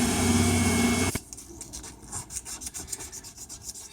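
A wooden dip pen is sanded by hand with 220 grit sandpaper: a brief loud steady rasp, then a quieter series of short, rhythmic rubbing strokes, close up and alone.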